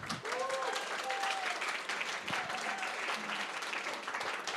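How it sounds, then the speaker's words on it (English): Guests at a wedding reception keep up steady, moderately loud applause, with scattered cheers and a few voices rising through the clapping. "Please bring another round of applause for Donald Mann"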